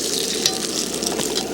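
Bacon sizzles in a pan during an overnight camping trip, a steady close crackle and hiss that stays even and fairly loud throughout.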